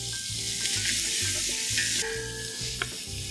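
Onion sizzling and frying in olive oil as a mirepoix is started for braised rabbit, with a steady close hiss and occasional stirring scrapes throughout, no talking.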